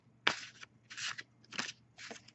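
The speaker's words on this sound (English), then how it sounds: "Let's see how these shuffle." A deck of Faeries' Oracle cards is shuffled in four short, soft rustling bursts, close and quiet, with no talking.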